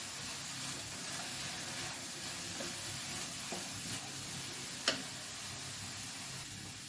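A banana stem stir-fry with curry leaves sizzles softly in a pan while being stirred, a steady quiet hiss with a few light scrapes and one sharp tap of the spoon.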